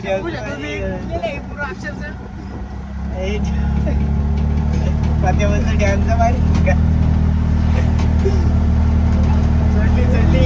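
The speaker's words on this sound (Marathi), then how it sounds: "एकदाची रिक्षा चढली." An auto rickshaw engine labours up a slope, its low droning hum growing louder and heavier after a few seconds and then holding steady, with people talking over it.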